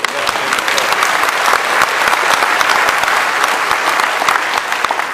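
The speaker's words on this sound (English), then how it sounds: "Round of applause for our elected officials." Enthusiastic applause from a sizable audience at a Korean War 60th anniversary event, loud and steady with crisp individual claps standing out, continuing without a break.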